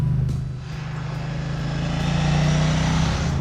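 A Ducati 750SS motorcycle engine revs steadily, a deep droning note rising slightly in pitch as it pulls through the gears, loud and continuous throughout.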